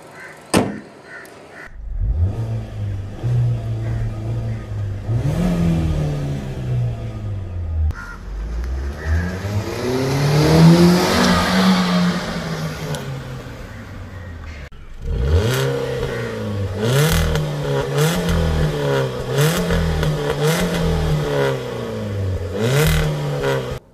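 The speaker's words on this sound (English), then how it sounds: "Let's see how the car drives right now." A used Hyundai i20 hatchback's small 1.2 litre engine revs up and down through several gears, rising and falling in pitch as it accelerates, close and fairly loud, with no talking.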